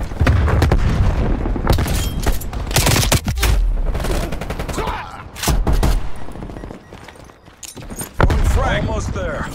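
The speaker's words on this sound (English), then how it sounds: "Throwing grenade." Call of Duty Cold War battle: a grenade blast and repeated bursts of gunfire crack and boom loudly in clusters, with heavy low rumbles between volleys and voices talking over the action.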